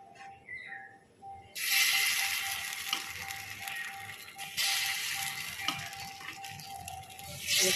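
A batter of rice flour soaked in salted water hits hot oil to fry saj pitha, sending up a bright, loud sizzle that starts abruptly, settles into a steady hiss and then surges again partway through.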